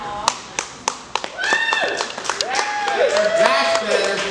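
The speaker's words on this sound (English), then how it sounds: "give a big round of applause for all our" Audience at a comedy anniversary show claps for the comedians, starting as a few separate sharp claps and swelling into fuller applause, with people talking over it.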